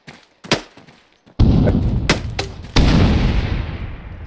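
Loud gunfire from an ARMA 3 co-op battle near a base: a couple of sharp shots, then two heavy booming bursts with long rumbling tails, close and dominant.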